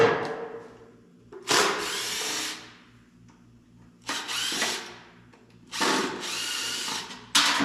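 A power drill drives screws back into a car build part in three long whirring bursts, each rising and biting into the material, with brief quiet gaps between them.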